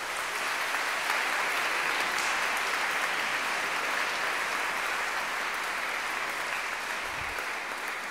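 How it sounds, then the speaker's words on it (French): A crowd applauds inside a basilica, a steady, dense wash of clapping that holds evenly for several seconds, full and reverberant. "On peut aussi les applaudir."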